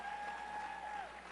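Audience applause fills a United Nations International Women's Day event hall in New York, a steady broadband clapping wash at constant loudness across the short moment, with a faint tonal whine running beneath.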